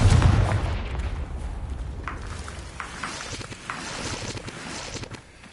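A Confringo spell blast in the Hogwarts video game: a loud, booming low burst at the start that fades into a windy rumble, followed by a few faint clicks.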